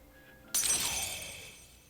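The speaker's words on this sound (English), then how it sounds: "why am I hearing glass break?" Glass shatters in a single sharp crash, a bright burst that rings and fades over about a second, from the Persona 3 FES video game on PS3; a faint hum sits underneath beforehand.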